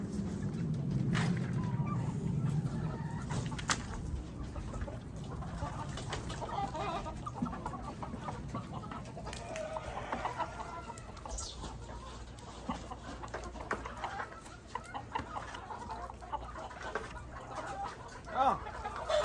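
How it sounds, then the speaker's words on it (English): Chickens clucking and murmuring close by throughout, with scattered rustling and clattering noises and occasional brief voices. "The chickens will love this. They'll eat all that."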